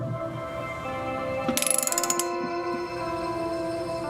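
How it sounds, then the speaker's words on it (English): A socket ratchet clicks in a quick run of about a dozen pawl ticks, threading a bolt by hand into a stripped aluminum oil pan during a repair, close and clear over a steady low hum. "we're going to gently and slowly thread this in with the socket until it's snug in the oil pan"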